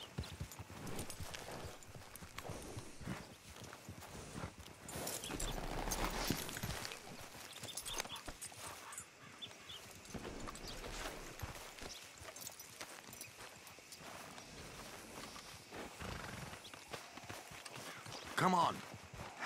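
Horse hooves clip-clop at a walking pace in the western game Red Dead Redemption 2, a steady muffled rhythm under ambient game sound and character dialogue.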